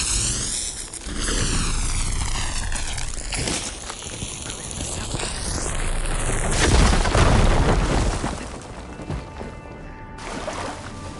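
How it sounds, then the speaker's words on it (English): A firegleam crystal in Horizon Forbidden West blows up with a deep, rumbling boom that swells and rolls under game music and whooshing effects, lingering before fading. "Should be able to blow up that fire gleam."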